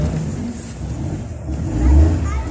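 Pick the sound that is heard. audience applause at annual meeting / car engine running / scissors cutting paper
car engine running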